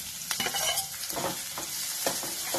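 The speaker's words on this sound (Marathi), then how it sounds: "हे पण आता चांगलं हलवायचं" Capsicum and tomato being stirred in a frying pan for vada make a soft, steady sizzle with repeated scraping strokes of a spatula at a moderate, uneven rhythm, fairly quiet and close.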